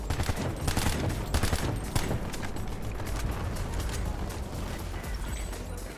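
Sustained support gunfire in PlanetSide 2 crackles continuously for several seconds, rapid overlapping shots and mechanical clatter filling a loud, busy battlefield with no talk over it.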